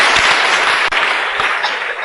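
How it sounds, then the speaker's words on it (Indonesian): An audience claps together on cue at a talk session, a loud, dense burst of applause filling the whole moment, close and continuous with a few sharper claps standing out. "tepuk tangan, tepuk tangan"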